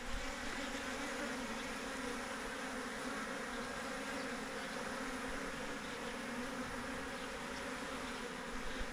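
Dense, steady buzzing of a honeybee swarm around a hive box fitted with a super, a continuous close drone that holds evenly from start to finish with no voices.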